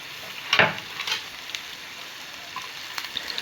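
Cumin and crushed garlic hit hot oil in a pan, giving a sharp sizzle burst at the start that settles into a steady, fainter crackle with a few light pops.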